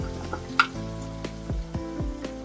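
Chole and potatoes frying in a pan on high heat with turmeric, a close steady sizzle with a few scraping stirs, no talking.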